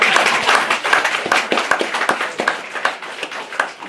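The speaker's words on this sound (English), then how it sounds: "Clap there for Joanne, please." An audience claps for Joanne at the Siamsa Sraide 2025 launch night, with dense, steady applause from a moderately sized crowd, close and lively throughout with no talking over it.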